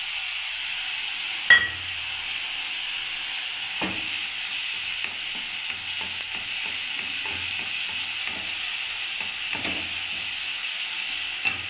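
Garlic paste fries in hot oil with a continuous, even sizzle and hiss, near and steady, punctuated by a few sharp spoon knocks and scraping stirs.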